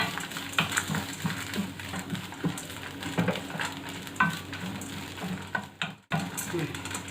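Grated coconut roasting in a dry pan crackles softly while a spoon stirs and scrapes in uneven strokes, with a short knock near the end.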